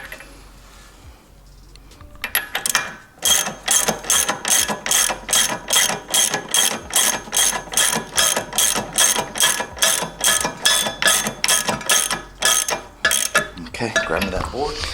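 A ratchet clicks rapidly and steadily while tightening down a part on a Mercury 150 Pro XS outboard during a foot oil change, about two dozen sharp, close, even strokes in a continuous burst before stopping.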